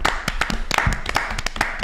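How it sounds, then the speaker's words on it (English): Hands clap steadily and briskly in a live football show studio, a close, fast run of sharp claps with a few others joining softly behind. "Don't know why I'm applauding myself"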